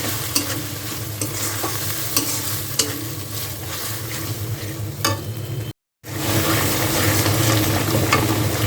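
A mixed paste of ground nuts, raisins, onion, garlic and ginger fries in a pan and is stirred steadily. The sizzle is loud and close, with scraping strokes throughout, one brief dropout and no voices.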